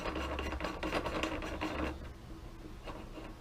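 Threaded metal reloading die for 9mm shaping being screwed down into a press by hand, giving a close, steady scraping rasp for about two seconds before easing into quieter, fainter rubbing.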